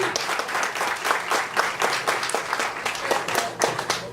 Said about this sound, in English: Can we have a round of applause for Jean, please?